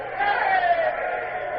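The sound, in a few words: sailors cheering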